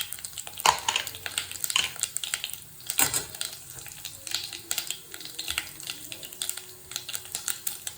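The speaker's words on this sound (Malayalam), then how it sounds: "കടുക് പൊട്ടി വരുന്നുണ്ട്" Mustard seeds pop and splutter in hot oil for a stew curry, a dense run of sharp crackles and sizzling bursts rising and falling close by, with no talking.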